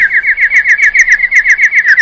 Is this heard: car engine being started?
no